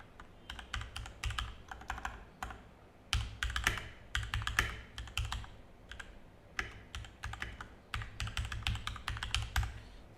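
A computer keyboard being typed on at close range, quick bursts of crisp key clicks separated by short pauses, fairly quiet with no talking.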